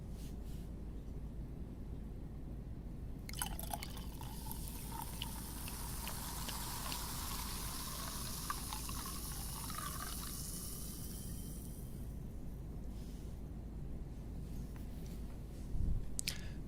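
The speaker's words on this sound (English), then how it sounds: "I always found the ideal way of pouring champagne to be quite difficult." Champagne pours into a glass aboard a first-class flight, a steady fizzing, liquid stream running for several seconds before tapering off, soft and close against a constant low cabin hum.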